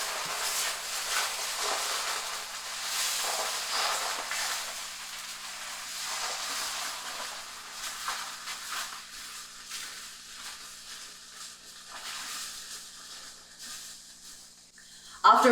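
Half a cup of Just Egg scrambling in a skillet with a teaspoon of neutral oil, giving a steady broad sizzle and hiss that runs throughout and fades slightly toward the end, with no speech.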